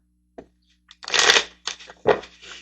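Tarot cards are shuffled and drawn close by in a quiet room, with a brief riffle, a longer papery shuffle and a couple of quick card snaps.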